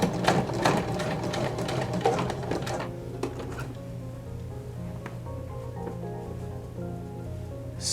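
A sewing machine topstitches an elastic waistband, a fast run of rapid needle clatter in the first few seconds, then slower intermittent stitches and pauses over a steady motor hum, close and alone.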